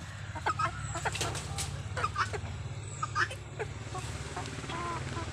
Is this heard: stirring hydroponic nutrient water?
no